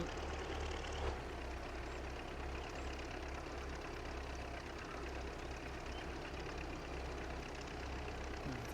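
A small 1,500-pound tractor in Farming Simulator 22, ploughing a field at a steady 10 to 11 mph, gives a low, even engine drone that runs without change from start to end.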